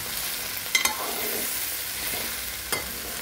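Okra (bendakaya) stirred in a pan as it fries, a steady soft sizzle broken by a few sharp scraping clicks of the spoon, close up with no talking.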